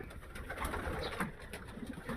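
Pigeons cooing inside a pigeon loft, soft low coos repeating close by over a faint background hum, with a few light flutters and scuffs.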